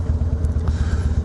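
A car engine idles on freshly added fuel, a close, steady low rumble with an even pulsing beat throughout and no voices.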